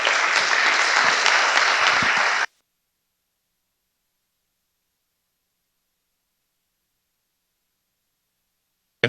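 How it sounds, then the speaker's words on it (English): Applause from a town election candidate forum audience for the timekeepers, a dense burst of clapping for about two and a half seconds, then abrupt silence. "Let's do a little exercise of clapping for our timekeepers, Tony and her assistant."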